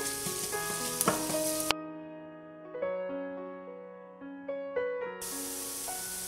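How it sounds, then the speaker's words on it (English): Finely chopped garlic sautéing in hot olive oil for a broccoli stir fry, a close, steady sizzle broken by a gap where the frying drops away and soft background music plays, then the hiss returns loudly. "Once the oil is hot, add finely chopped garlic. Saute it little bit."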